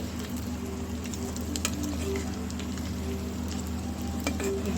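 Curry fries in a pan with a steady close sizzle and light patter, a continuous crackling bed with a few faint utensil ticks and no voices.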